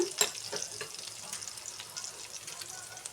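Green chilies and a little turmeric drop into hot oil in a pan while cooking pasta, giving a soft, close sizzle with a sharp crackle at the start, then a quiet steady frying hiss.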